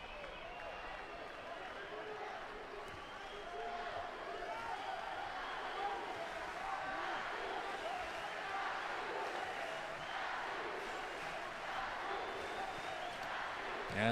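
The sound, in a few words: crowd cheering for Brazil at wheelchair basketball game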